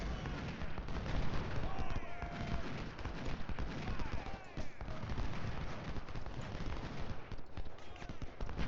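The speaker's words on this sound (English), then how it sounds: "Milroy, I want firing over here." Musket volleys and artillery fire in the Civil War strategy game Ultimate General, a dense, steady crackle of distant gunfire with rumbling booms, continuous throughout.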